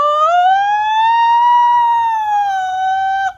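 A voice imitates a wailing tornado siren, one sustained loud tone that rises slowly and then dips, held for several seconds on its own.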